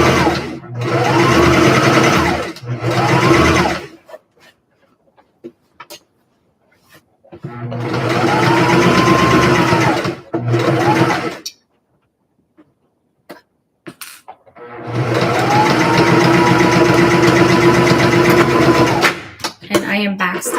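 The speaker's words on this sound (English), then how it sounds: "And I am back stitching to close the seam." A sewing machine stitches a vest seam and back stitches to close it, running in three sustained bursts close by with quiet pauses between, its whirring pitch rising and falling; a person coughs and talks during the gaps.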